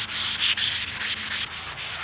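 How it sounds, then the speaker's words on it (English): Steady rhythmic scrubbing of a wet Scotch-Brite pad across a car surface, repeated back-and-forth strokes, close and fairly loud, no voices. "A little wet sanding. Scotch Bright."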